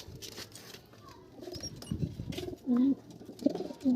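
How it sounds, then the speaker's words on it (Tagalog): Racing pigeons at the home loft after a 215 km race from Bauang, La Union, giving soft, close, repeated throaty coos and short warbling calls against quiet background rustling. "First bird ko, yan. Second bird. Saka itong third bird."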